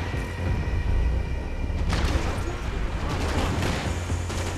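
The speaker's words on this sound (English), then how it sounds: "Who's shooting at Passos?" Gunfire and explosions from the video game Max Payne 3 fill a dense, loud, continuous barrage of overlapping shots and booms during a graveyard standoff, with a sharp burst partway through and voices mixed into the chaos.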